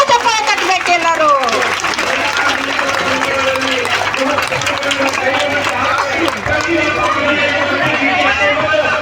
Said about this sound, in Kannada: ಜೋರಾದ ಚಪ್ಪಾಳೆ ಕಟ್ಟಬೇಕು ಎಲ್ಲರೂ